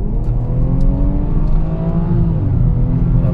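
A BMW 3 Series F31 Touring with 325 hp accelerates hard, its engine note loud and close, rising steadily in pitch for several seconds as revs climb, with no talk.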